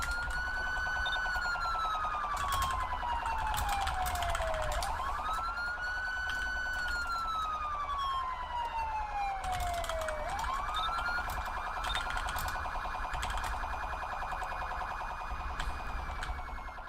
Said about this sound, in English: Got the siren on.